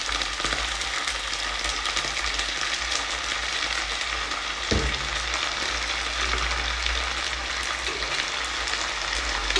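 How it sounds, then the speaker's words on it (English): Oil bubbles and sizzles steadily in a deep pan while deep frying omena (small fish), a constant crackling hiss with one brief low knock partway through. "So as this one deep fries"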